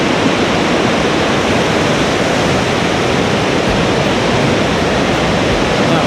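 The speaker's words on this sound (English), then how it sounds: "thundering water down here" Water thunders down the falls at Fairy Glen in Snowdonia, a loud, constant, broadband roar heard close up from a viewing platform, with no break or voices.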